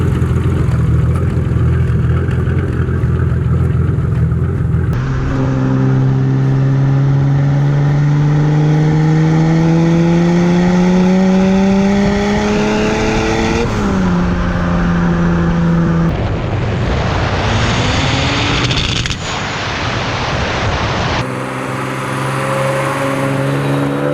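A BMW E30 with a turbocharged M20 2.9 stroker engine revs hard and close, climbing through sweeping pitch rises, dropping back, then surging again in loud, sustained bursts without any talk.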